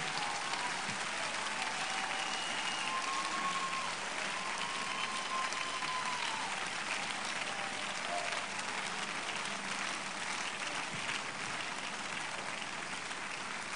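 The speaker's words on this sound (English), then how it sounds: "Keep clapping" Congregation clapping steadily at an Easter youth camp church service, a dense, continuous wash of many hands that stays loud and even throughout, with faint voices underneath.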